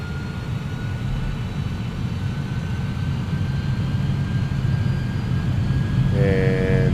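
The jet engines of a TFDi MD-11 airliner spooling up to takeoff power in a flight simulator, a loud steady engine roar with a thin rising whine, and a tonal alert-like chime sounds near the end.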